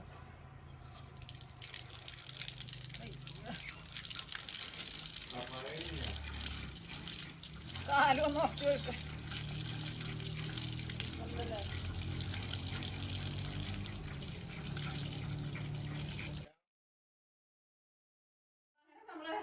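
Water runs steadily from a tap with a broad rushing hiss, a person briefly speaking over it, then the flow stops and silence follows.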